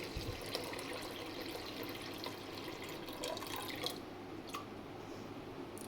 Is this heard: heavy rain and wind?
no